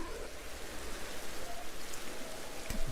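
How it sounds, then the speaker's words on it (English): Steady rainfall in the video game Pokémon Legends: Arceus, a continuous hiss of falling drops with faint soft patters, filling the scene at moderate level. "it's raining right away"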